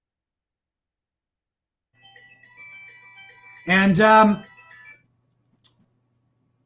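A mobile phone rings with a short, tinkling electronic melody that plays faintly in the background while a voice briefly speaks over it.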